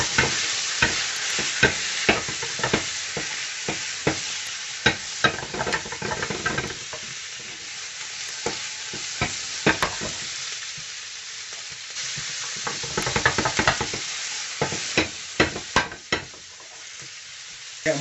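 Vegetables for chicken jalfrezi frying in hot oil, the tomatoes held back, while being stirred and tossed in the pan: a steady loud sizzle broken by frequent sharp scrapes and clatters of the utensil, with no talking.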